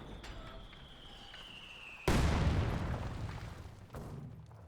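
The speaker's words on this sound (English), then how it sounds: "Mortar, Soviet mortar, 120mm mortar." A Soviet 120mm mortar shell in Company of Heroes 2 whistles in with a falling tone, then lands in a loud, booming blast that rumbles away, followed by a second, smaller impact.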